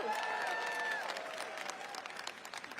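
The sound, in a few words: convention audience cheering and applauding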